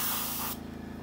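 An airbrush sprays paint onto a Meng 1/48 F-35A plastic model, giving a steady loud hiss that cuts off halfway, leaving a low rhythmic compressor hum.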